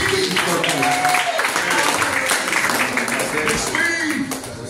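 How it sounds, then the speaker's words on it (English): A crowd gives a round of applause for a man and his wife, steady clapping throughout, partly blended with voices and some whooping cheers. "Give a round of applause for Mr. Stephen Corcoran and his lovely wife"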